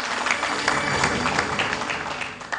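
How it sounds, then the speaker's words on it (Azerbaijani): A studio audience at a quiz show claps steadily, a close, continuous patter of applause with a few sharper claps standing out. "Alqışlar!"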